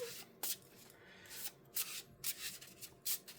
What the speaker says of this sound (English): The deck is being a little tricky to shuffle, actually.